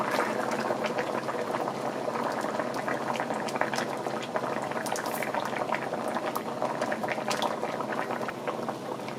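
Curried lobster claws and potatoes simmer in coconut milk, a steady close bubbling boil that continues throughout without talk.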